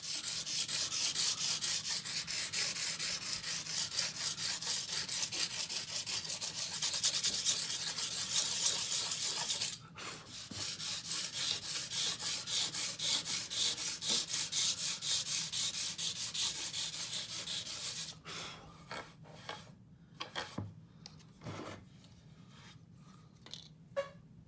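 Sandpaper rubbed across sand texture on a small tarmac diorama base, a steady close scratchy rasp for about ten seconds, then shorter separate strokes with brief pauses between them.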